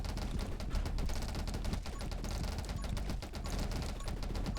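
Fusillade weapon from 20 Minutes Till Dawn firing in a dense, continuous rapid volley of gunshot-like bursts, steady and loud throughout with no pauses.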